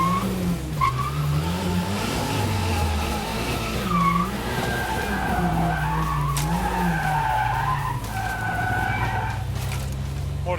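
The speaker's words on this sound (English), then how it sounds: "Maybe we should just go to like a classic drag race." A turbocharged Toyota Hilux and Holden Gemini drag race with tyres skidding and squealing, engines droning and revving loudly and close throughout with wavering pitch, and no talk heard.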